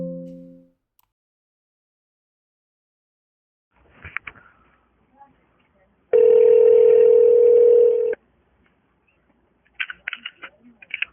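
A short tone, some clicks and handling noise, then a steady telephone dial tone hums for about two seconds before cutting off, followed by more clicking.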